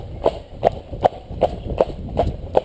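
Steady clip-clop of horse hooves on a hard surface, about seven even beats at a walking pace, close by with faint background noise.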